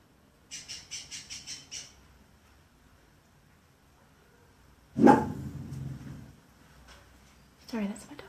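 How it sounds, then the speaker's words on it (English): A pet dog barks indoors in a quick burst of about six sharp barks near the start, followed later by a louder, rougher yelp or whine, all close to the microphone with no talk over it. "Sorry, that's my dog."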